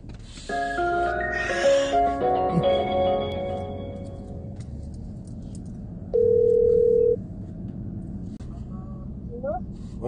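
A car hands-free phone system places a call, with a synthesized voice prompt and a short electronic chime, then one steady ringback tone sounding for about a second amid low cabin noise.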